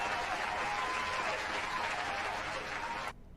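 A crowd claps and cheers in a broad, steady roar of applause that cuts off abruptly just before the end.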